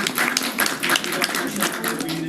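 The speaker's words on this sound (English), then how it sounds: "Round of applause for them." Audience applause at a school board meeting, a steady patter of many hands clapping at moderate loudness with faint voices mixed in.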